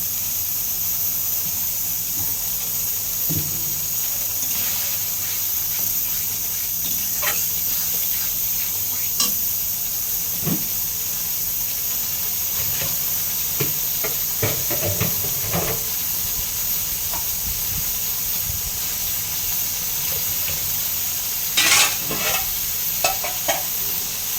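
Tilapia fish curry sizzles steadily in oil in a pan, with a continuous frying hiss broken by scraping stirs and clinks of a spatula throughout, close and fairly loud.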